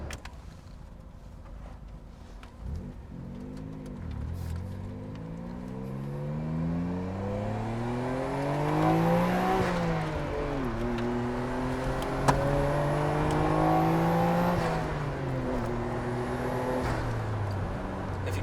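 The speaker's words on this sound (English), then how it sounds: "if you guys like what you hear, that's because it's definitely an RB26" The RB26 engine in a Nissan Stagea 260RS Autech with a five-speed runs steadily and then revs up through rising, falling pulls, a smooth, loud, continuous drone with no voices.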